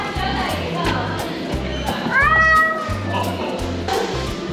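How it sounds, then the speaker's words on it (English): A cat meows once with a rising, drawn-out cry over a steady background of music and faint voices. "And this is a cat."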